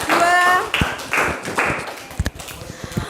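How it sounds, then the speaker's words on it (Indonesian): A short voiced utterance is followed by a few scattered, sharp hand claps from a small group of students in a classroom lesson, the claps sparse and uneven rather than a full round. "tepuk tangan dulu buat kelompok"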